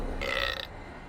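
A demon hellhole in the dungeon-management game Dungeon 3 lets out one deep, gurgling burp lasting about half a second, loud and close over a low game ambience.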